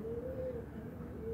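A pigeon coos softly, a faint low tone drawn out briefly twice over quiet background noise.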